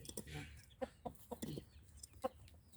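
Chickens for sale at a market cluck close by in a quick series of short, clipped calls, some rising into brief squawks, with busy background noise around them.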